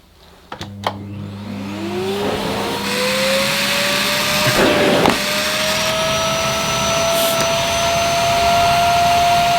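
Morphy Richards Family & Pets vacuum cleaner switched on at maximum suction: a click, then a loud steady motor whine that climbs in pitch as it spins up and holds, close and alone.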